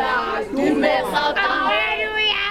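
A warm crowd of South African football fans cheers and chants, with many overlapping voices rising and falling together in a close, lively swell.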